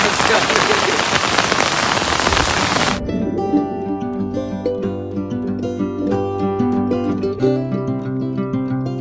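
Heavy monsoon rain in Konkan pours steadily for about three seconds, then stops abruptly as music with a steady beat takes over.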